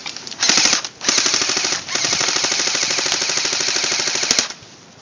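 An airsoft gun empties a full magazine in rapid, steady full-auto bursts, loud and close, with a brief pause early on before firing resumes and runs nearly to the end.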